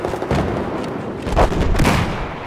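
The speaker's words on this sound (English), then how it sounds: "Throwing grenade over." Grenade blast in the video game Battlefield 4, a loud boom landing amid ongoing gunfire and artillery-like bursts of battlefield noise.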